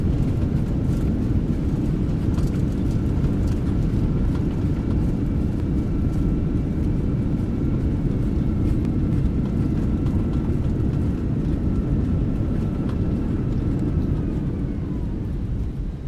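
Airbus A319 in a flight simulator rolls out after landing with reverse thrust, a dense, steady low engine roar holding level and loud throughout, fading slightly at the end.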